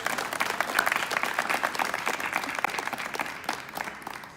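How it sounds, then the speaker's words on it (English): A crowd applauding steadily, dense overlapping claps sustained throughout at an even, fairly loud level. "let's give a round of applause to him as well"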